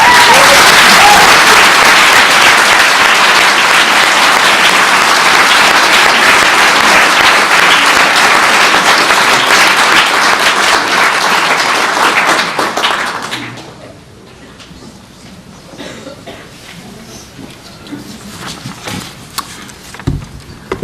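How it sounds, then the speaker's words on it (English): An audience claps loudly and continuously at a talk event for about twelve seconds, then the applause fades quickly into a quiet room with scattered small noises. "So both clapping and jazz hands are most welcome."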